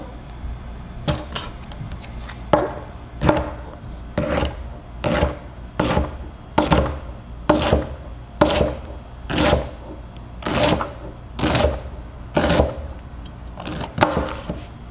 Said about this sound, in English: we're gonna slice it really thinly for our salad